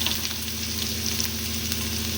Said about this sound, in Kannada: ಎಣ್ಣೆ ಕಾಯ್ತಾ ಇದೆ. ನೆಕ್ಸ್ಟ್ ಸಾಸಿವೆ, ಸೊ ಒಂದು ಅರ್ಧ ಈರುಳ್ಳಿ